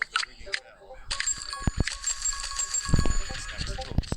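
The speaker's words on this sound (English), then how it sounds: "The ringing bell draws his attention" A bell rings in clear metallic dings, several sharp strikes with bright lingering overtones, mixed among clatter and other busy foreground sounds.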